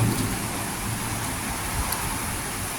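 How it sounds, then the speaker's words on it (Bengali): Heavy rain pours down on trees in a dense, steady hiss, with a low rumble underneath and no voices. "এই যে গাছগুলো কীভাবে এই কঠিন বৃষ্টি হচ্ছে দেখতে পাচ্ছেন"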